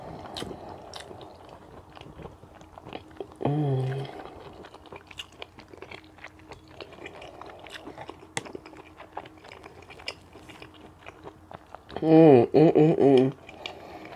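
Close, crunchy chewing and biting of shrimp during a mukbang, with steady wet mastication throughout and a voice speaking in two short bursts.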